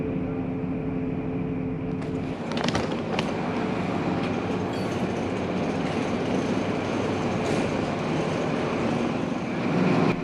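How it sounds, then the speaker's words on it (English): An XPT passenger train coming into platform 9 at a Sydney station, a steady rolling rumble of wheels and carriages with a brief squeal and clunk partway through, moderately loud and close. "the 7:30 XPT Sydney service will be arriving shortly at platform 9"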